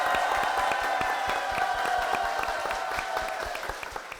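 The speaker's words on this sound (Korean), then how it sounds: "박수로 모시겠습니다." A church audience breaks into sustained applause, with a faint hum of voices underneath, fading slightly toward the end.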